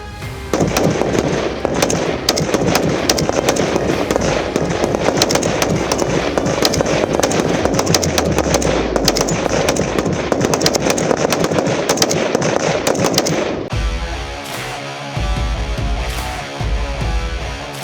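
Gunfire at a BSF training firing drill, loud and near with dense rapid bursts of shots for most of the stretch, then a shift to sparser, lower thumps and background noise.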